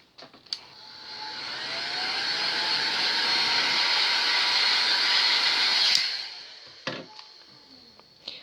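A heat gun blowing on vinyl wrap at a corner of a curved surface, a steady rushing whoosh that swells in and holds for several seconds before cutting off, with brief handling clicks around it.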